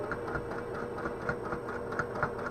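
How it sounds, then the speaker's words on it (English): A sewing machine runs a quick stitch along the bottom edge of a fabric zipper pouch, its needle chattering in a fast, even mechanical rhythm at close range with no talking. "do a quick little stitch right along that bottom"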